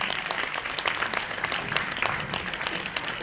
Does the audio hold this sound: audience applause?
yes